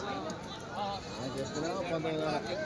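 Goats at a busy weekly sheep and goat market bleat in short wavering calls over a steady crowd babble, with people talking nearby throughout.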